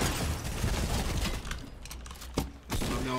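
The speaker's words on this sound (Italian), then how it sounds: "Ci sparano, eh?" Bursts of gunfire in the Fortnite video game, a dense rattling volley heard quietly and somewhat muffled, with a sharp crack near the end and almost no talk.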